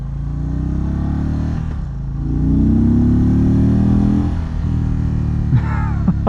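A 2022 Indian Chief motorcycle rumbles loud and close, its low engine drone swelling as it accelerates mid-ride and then easing back, with a few clattering knocks near the end and no voices.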